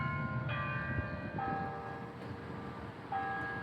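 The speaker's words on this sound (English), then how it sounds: "clock's a little off, I think, chiming, but the time looks about right" Clock bells chime the hour outdoors in a town street, a few ringing tones spaced apart at moderate distance over steady traffic rumble.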